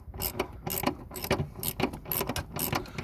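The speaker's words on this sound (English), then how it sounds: "So we'll get the 10 ratchet." A 10mm ratchet clicks rapidly in short bursts while undoing a bolt on a Honda CR-V diesel during a fuel filter change, with close, steady ratcheting strokes and no talking.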